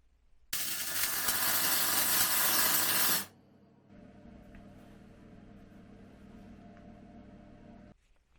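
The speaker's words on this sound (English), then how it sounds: "Let's get welding." Welding an oversized alcohol stove: a loud, steady broadband hiss of roughly three seconds, then a quieter, continuous buzzing hum that runs on to near the end.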